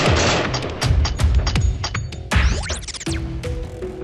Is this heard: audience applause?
no